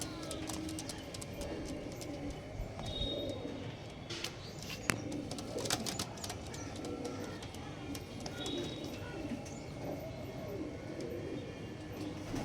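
Pigeons coo softly and repeatedly amid a busy, noisy background with faint voices.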